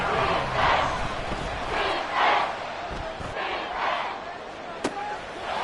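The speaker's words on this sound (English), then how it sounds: "The Arrowhead crowd in full roar" A large football stadium crowd at Arrowhead roars in surging waves, loud and sustained, with a sharp thud near the end.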